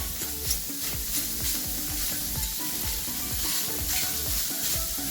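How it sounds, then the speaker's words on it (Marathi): Onion roasting in a pan for a village-style chicken thali, turned over and over: a steady close sizzle broken by repeated scraping stirs, with no talking. "हा कांदा छान खालवर करत मस्तपैकी भाजून घ्यायचा आहे उलटा पालट करत."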